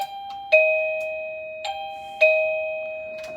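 A Milton's Bells warehouse wireless doorbell chime rings three clear two-tone ding-dong strikes, each ringing out and decaying slowly, close and alone with no talk.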